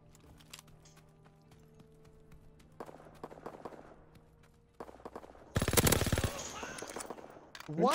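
In a video game, rapid-fire gunshots burst out in quick crackling strings, building to a loud dense volley near the end over background game sounds, with some faint talking.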